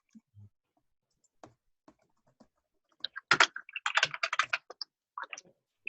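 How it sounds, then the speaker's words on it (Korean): Typing on a computer keyboard, starting with a few sparse, faint keystrokes and then a quick, close burst of clicking taps before a short final flurry, with no talk. "그 입력창에서 컨트롤 키를 누른 상태에서 엔터 키를 누르면 실행이 돼요"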